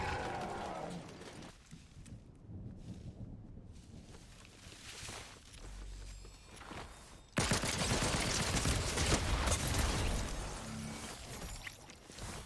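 The Mythic Tactical Pistol in Fortnite fires in quick, snappy bursts, first in scattered volleys, then in a dense, continuous stream of rapid shots for several seconds, loud and crackling over in-game ambience.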